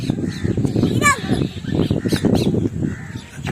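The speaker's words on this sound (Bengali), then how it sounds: "এই যে পাখিগুলো ডাকছি" Crows cawing in short harsh calls, a couple of bursts, mixed in with people talking nearby.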